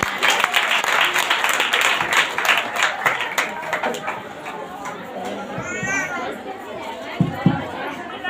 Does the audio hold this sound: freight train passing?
no